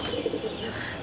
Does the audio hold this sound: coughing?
no